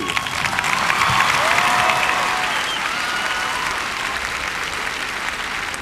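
Loud sustained applause from a large audience at a high school graduation ceremony, steady clapping that fades only slightly toward the end.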